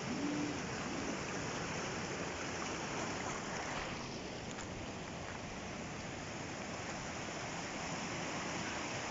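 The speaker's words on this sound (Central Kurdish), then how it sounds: "بەڵام ئاوەکەی زۆر خێرایە و مەترسیدارە" The fast, dangerous Sirwan river rushes past in a dense, constant roar of flowing water, loud and unbroken, with no voices.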